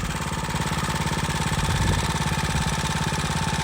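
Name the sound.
motorcycle engine idling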